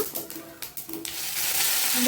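Garlic cloves and cumin seeds crackle in hot oil for an Indian tempering in a pan, a steady sizzle that swells toward the end, with a few faint clinks near the start.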